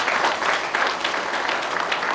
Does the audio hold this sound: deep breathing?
no